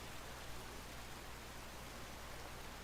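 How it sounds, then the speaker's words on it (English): Steady rain falls in the video game The Legend of Zelda: Tears of the Kingdom, an even, continuous hiss of drops with no change in intensity and no voices. "Darn stupid rain."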